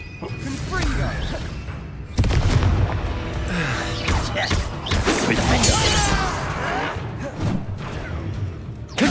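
Explosive Confringo curse blasts in Hogwarts Legacy on PS5, a sudden loud booming impact followed by crashing, whooshing spell effects and combat clatter, with voices shouting over the din.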